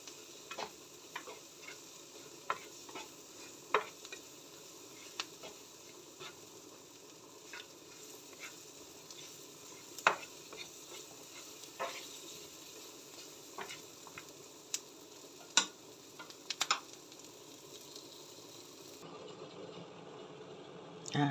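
A spoon stirs a pot of Thai rice porridge with ham and fried garlic, giving faint, irregular clinks and scrapes over a steady, soft sizzling hiss, quiet and close with no talking.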